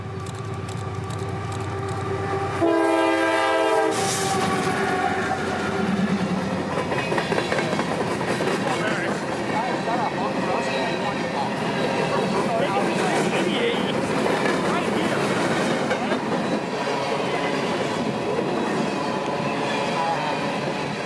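Norfolk Southern train E305 from Chattanooga running west toward Stevenson on the Chattanooga sub, a broad steady rumble with clattering wheels sustained throughout, after a brief tonal horn-like burst near the start, with voices mixed in.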